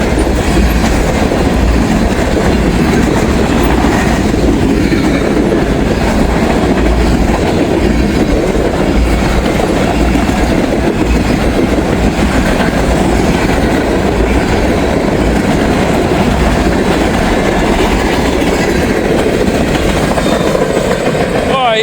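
A heritage locomotive hauls a freight train past at speed with a loud, continuous rumble and steady clickety-clack of wheels on rails. It stays close and forceful for over twenty seconds.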